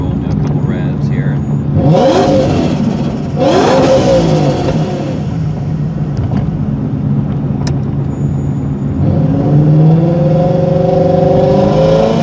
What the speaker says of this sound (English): Put it neutral, do a couple revs here.